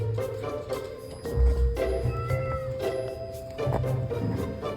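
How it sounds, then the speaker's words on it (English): A cat's meowing plays from an iPad speaker, several drawn-out, wavering meows and caterwauls spaced through the stretch with no talking. "The iPad meowing?"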